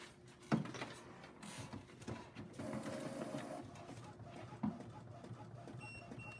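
A sublimation printer prints a tumbler graphic with a low mechanical whir and shuttling hum, broken by two sharp clunks of the carriage, fairly quiet and close, with no talking.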